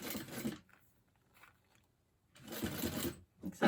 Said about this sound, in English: We're going to top stitch here.